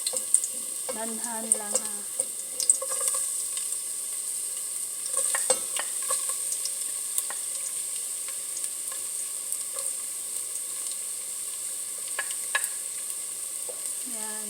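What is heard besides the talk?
garlic frying in hot cooking oil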